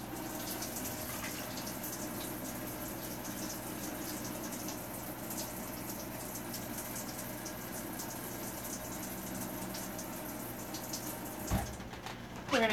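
Tap water runs steadily into an open can, rinsing canned food as soup is being made, a constant close hiss and splash that ends with a few clunks.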